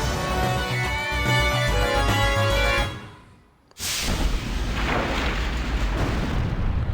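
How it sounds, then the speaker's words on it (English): Explosions in the video game Skies of Arcadia: loud, dense booming blasts that rumble continuously, fade briefly to near quiet, then erupt again in another big sustained burst. "Yeah! Explosions!"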